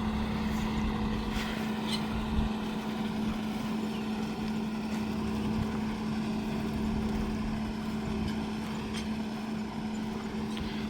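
A Swaraj 969 FE 4WD CRDI tractor idles steadily, its engine hum and radiator fan producing a constant droning whir with a low tonal note, close and even throughout without voices.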